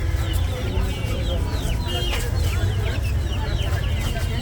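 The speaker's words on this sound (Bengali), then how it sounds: "এটা কি মুরগি? টার্কি মুরগি? চীনা মুরগি।" At a busy poultry market, several chickens cluck and squawk continuously, close and fairly loud, over a low murmur of crowd noise and voices.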